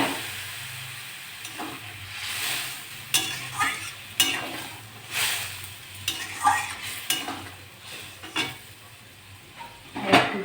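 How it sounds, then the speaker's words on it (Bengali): Hot water poured into a pan of sizzling tilapia, potato and papaya curry gives bursts of hissing steam and bubbling, with intermittent stirring scrapes and clinks of a utensil against the pot, moderately close. "গরম জলটা দিয়ে দেবো।"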